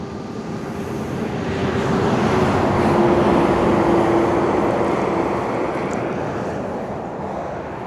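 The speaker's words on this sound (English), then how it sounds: "check out this big road train's coming." Big road train truck passing on an outback road, a broad rumbling roar that swells as it approaches, peaks mid-clip and slowly fades away, loud and continuous.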